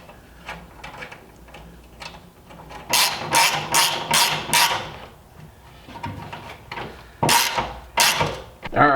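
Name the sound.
ratchet wrench tightening bolt on Miata front splitter bracket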